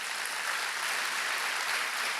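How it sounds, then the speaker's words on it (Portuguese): A church congregation claps together at an anniversary service, producing a soft, even wash of applause that holds steady without a break. "Vamos aplaudir essas mãos erguidas."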